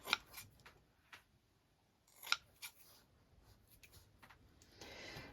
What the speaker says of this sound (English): I'm just going to trim them down a little.